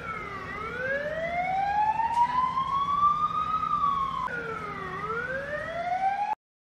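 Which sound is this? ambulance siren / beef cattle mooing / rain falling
ambulance siren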